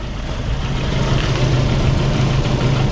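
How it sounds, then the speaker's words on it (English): A 1987 Nissan Vanette van's engine runs at a steady, low idle, heard close and continuously without talking. "So I just want to show you guys that the car does run, the van runs."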